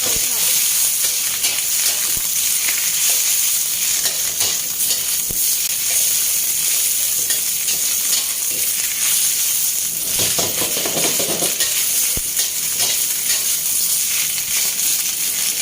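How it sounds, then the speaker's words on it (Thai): Cabbage stir-fried in hot oil over high heat in a wok sizzles with a loud, dense, continuous hiss, broken by intermittent scraping and tossing. "กลับปลีกับน้ำมันให้เข้าเกรียมๆนิดนึงนะเข้า"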